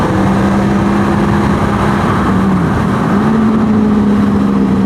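A Honda motorcycle with VTEC revs high above 7,000 RPM, giving a loud, steady, buzzing engine drone with a brief dip and recovery in pitch midway, close and unaccompanied by talk.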